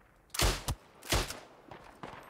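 Gunfire in the World War I shooter Isonzo: two sharp nearby rifle shots a beat apart, each with a short echoing tail, followed by a couple of fainter, more distant reports.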